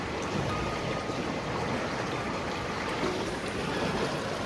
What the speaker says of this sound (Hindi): एक तो पानी का साउंड